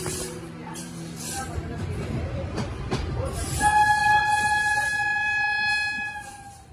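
A train comes into Jhansi Junction from the Kanpur side with a low rumble and track clatter, then a loud, sustained horn blast that holds to the end. The horn is close and there is no speech.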